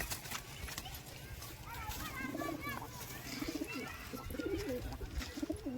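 A Rampuri pigeon, held in a person's hand, gives soft low coos that repeat through the middle and later part of the clip, close by and mixed with background voices and general noise.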